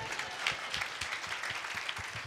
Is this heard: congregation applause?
yes